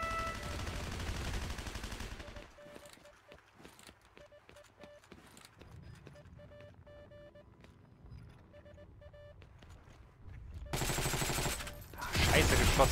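Scattered gunshots from the online shooter game Heroes & Generals crack with short sharp bursts over a muffled background, building to louder dense firing near the end.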